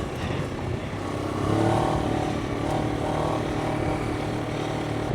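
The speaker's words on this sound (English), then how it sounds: "it's got quite a blary exhaust note" A Moto Morini X-Cape 700 motorcycle with a 180-degree crank rumbles and blares from its exhaust, the note swelling as it revs while riding, steady and fairly loud throughout.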